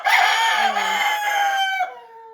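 Farm chickens clucking in winter while a rooster lets out a long, loud crow close by, the crowing rising and trailing off over a couple of seconds.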